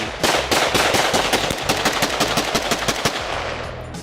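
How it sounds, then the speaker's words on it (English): Glock pistol shots fired in rapid succession: dense, sharp, close cracks in a fast string of shots lasting about three seconds, with no talk. "letting me shoot his Glock"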